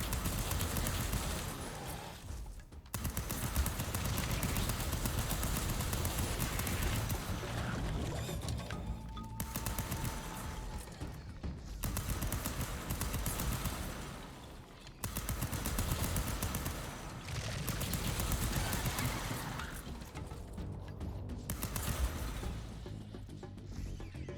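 Assault rifle fire in the action platformer Fury Unleashed: dense, continuous bursts of rapid shots with a few short pauses between volleys, loud and steady throughout.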